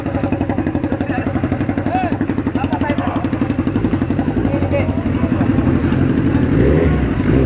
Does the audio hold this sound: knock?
no